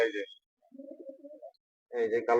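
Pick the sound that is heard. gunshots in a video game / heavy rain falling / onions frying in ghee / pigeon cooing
pigeon cooing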